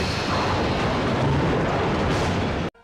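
A loud, sustained roaring blast of a film explosion special effect from Gamera 2: Advent of Legion fills nearly three seconds before cutting off abruptly.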